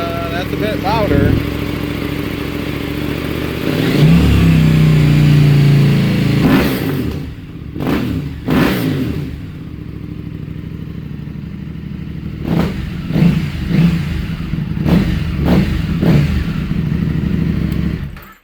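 A 2023 Norden 901 motorcycle fitted with an Arrow midpipe exhaust, Rottweiler Pro intake and Rade Garage skid revs hard and loud close by, with sharp repeated throttle blips and a sustained roar, while people talk over it.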